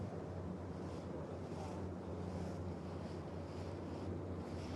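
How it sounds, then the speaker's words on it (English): Big ocean waves and wind near the line-honours finish of the Rolex Sydney Hobart yacht race in 2022, a steady, dense roar of surf and gusting wind buffeting the microphone, with no pauses. "some big lights coming out now as we get closer to the finish, and some big waves consequently as well"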